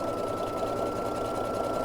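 A sewing machine runs steadily while backstitching a reversible swimsuit top, a fast even mechanical whir, close and continuous for a couple of seconds.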